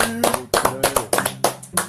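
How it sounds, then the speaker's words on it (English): A small studio audience claps in sparse, uneven bursts, several distinct hand claps close by with brief gaps between them. "Let's give him a round of applause"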